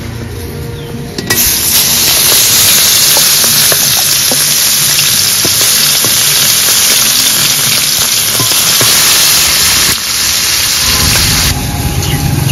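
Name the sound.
fish (katla) frying in hot oil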